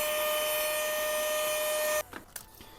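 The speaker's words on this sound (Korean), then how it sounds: "지금 여기 먼지가 많은데 자, 청소기로 조금 빨아주겠습니다." A vacuum cleaner sucks dust off a broken airbrush with a loud, steady rushing whine for about two seconds, then cuts off, leaving a few soft handling clicks.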